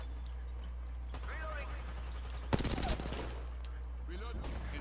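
Video game gunfire, a short rapid burst of shots in the middle, fairly faint under steady background hum and players talking.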